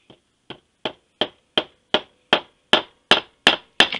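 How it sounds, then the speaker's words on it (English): A 3/16 roll pin is hammered into a Mosin rifle barrel band with eleven sharp metallic taps, evenly spaced and growing steadily louder, close by with no talk. "Now I got a 3/16 roll pin I'm going to stick in here."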